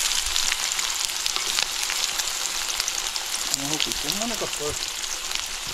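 Onion, cumin and garlic fry in oil over an outdoor fire beside a creek, for a crab dish. A steady, close hiss of sizzling runs throughout, with brief speech near the end.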